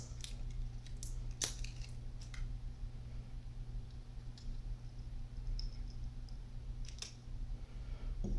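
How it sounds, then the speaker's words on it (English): Plastic film being snipped away from an FPV transmitter, heard as a few soft, brief scissor snips and crinkles over a steady low hum, close by and fairly quiet, with no talking. "So carefully just snip away the plastic."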